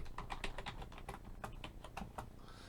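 Keystrokes on a computer keyboard typing a Control-tilde shortcut while working in Excel, a quick run of about a dozen close, crisp clicks in an uneven rhythm, with no voices.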